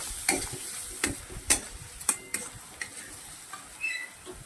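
Onion stirred into a potato filling in a pan, with a spoon scraping and tapping against the pan about once a second over a quiet sizzle, close by.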